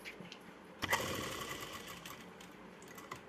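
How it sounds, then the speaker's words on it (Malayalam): A sewing machine stitches skirt fabric, its needle running in a steady, rapid mechanical whir that starts abruptly and continues close by. "ഇതേപോലെ നിവർത്തി കൊടുത്തിട്ട് സ്റ്റിച്ച് ചെയ്തെടുക്കാം കേട്ടോ"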